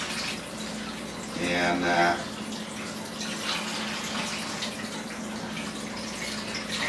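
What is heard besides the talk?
tap water running while washing tomatoes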